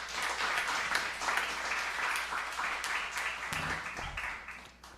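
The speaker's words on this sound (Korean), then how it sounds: "다시 한번 박수 부탁드리겠습니다" A church congregation at an anniversary worship service gives a round of applause, a steady patter of many hands at moderate distance that fades out toward the end.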